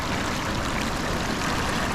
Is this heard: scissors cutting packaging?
no